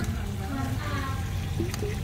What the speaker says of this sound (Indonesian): Saya akan buka backwashnya.